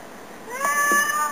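A cat rescued from the rubble of a destroyed home gives a single clear, close meow, rising and drawn out over a low steady background hiss, with no talking.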